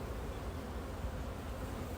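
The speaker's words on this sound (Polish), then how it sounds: "lotne pszczoły yy, no latają dzisiaj" Honeybees fly around a hive on a warm, busy flight day, giving a steady, close, low-pitched buzzing drone that holds evenly throughout with no talking.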